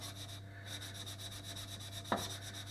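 A knife blade drawn across a whetstone with slurry under gentle pressure makes faint, soft rubbing strokes, with one brief louder scrape near the end.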